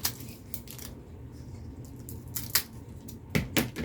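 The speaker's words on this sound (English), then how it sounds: "Okay, now I don't want those that long, so cut them off pretty short." Scissors snip short ends off, a few crisp, sharp cuts scattered irregularly over a quiet background.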